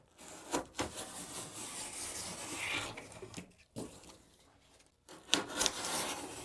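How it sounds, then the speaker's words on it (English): A Demko Shark 20CV folding knife slicing through double-thick cardboard gives repeated dry rasping, rubbing strokes in several close bursts separated by brief pauses. "This is double thick cardboard. It definitely slices through like it's single."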